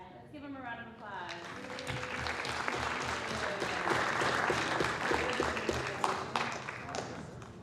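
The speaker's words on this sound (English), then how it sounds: "let's give him a round of applause" Applause from a crowd at a city council meeting, broad steady clapping that swells and holds for several seconds, with a few voices mixed in at the start.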